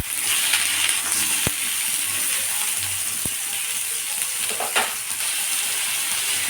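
Chopped vegetables and tomato, salted, sizzle in a pan while a utensil stirs and scrapes them, giving a steady fry hiss broken by a couple of sharp knocks against the pan, close and alone.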